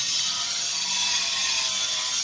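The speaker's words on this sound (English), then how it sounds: "My neighbor decided to start sawing as soon as I start videoing" Sawing from next door comes through as a steady, bright grinding drone, loud and unbroken throughout.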